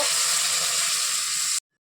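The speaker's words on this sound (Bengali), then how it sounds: "এটা ভালো ফুটছে।" Fish curry gravy with mustard and poppy seed paste and pabda fish boils in a pan, giving a steady loud hiss and bubbling that cuts off abruptly.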